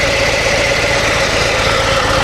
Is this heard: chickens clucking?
no